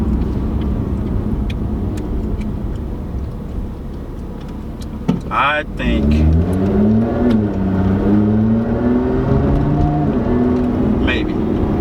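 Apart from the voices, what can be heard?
Lotus Evora car exhaust while driving, revving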